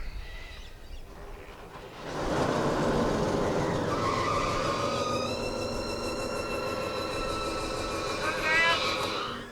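A big outback road truck's diesel engine cranks for a moment, then catches at about two seconds and settles into a loud, steady rumbling idle with whining tones, a surging roar near the end.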